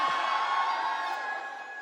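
A large crowd roars and cheers for Ranveer Singh at a Franck Muller Geneve event, a dense, sustained wash of voices that holds steady and fades slightly at the end.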